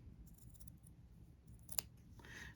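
Sharp scissors snip Hardanger embroidery fabric, a few quiet cuts and one crisp, brief click near the end against a faint, steady background.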